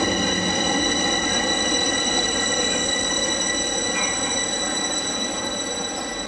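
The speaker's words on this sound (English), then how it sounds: "Gara de Nord, which is Bucharest's main railway station, with trains serving the whole of the country." Rolling train noise at Gara de Nord station in Bucharest, Romania, a steady rumble of wheels on rails with faint metallic squeals above it, continuous and fairly loud.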